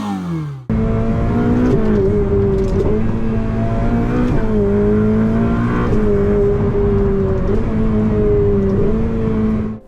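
A Ferrari 488 Pista with a turbocharged V8 revs loudly and close, holding a sustained, rising and falling engine roar throughout without pause.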